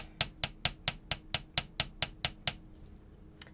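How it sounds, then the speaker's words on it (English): A small hammer striking a metal leaf-shaped earring piece during jewelry making, about a dozen sharp evenly spaced taps close up, then a pause and one last lighter tap, no talk. "just going to hammer that a little bit."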